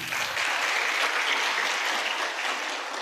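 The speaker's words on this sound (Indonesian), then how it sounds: "Mohon dengan kerendahan hati Anda beri aplaus untuk One Diamond Gold Lion Bapak Andre Wigu" A seminar audience gives a sustained round of clapping, dense and steady throughout with no voices over it.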